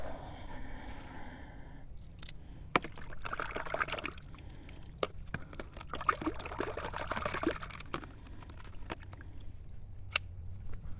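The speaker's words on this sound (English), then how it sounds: "Now we've got some water." Water pours and trickles unevenly, with small splashes and scattered clicks and knocks over a low background rumble.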